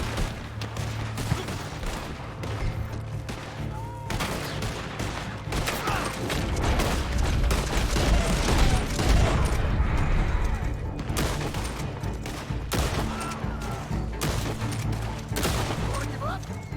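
Dense, continuous bursts of cap-gun fire in Red Dead Redemption 2 Online crackle and pop for the whole stretch, rapid overlapping shots like a fusillade, loud and unrelenting.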